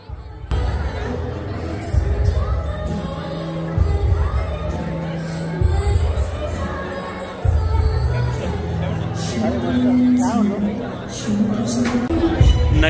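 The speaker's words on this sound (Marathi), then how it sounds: "आता चांगलीच गर्दी जमायला सुरुवात झाली होती" A crowd gathers at a Gudhi Padwa celebration in Manchester, UK, producing a steady babble of chatter, children's shouts and occasional cheers, with a deep rhythmic thumping running underneath throughout.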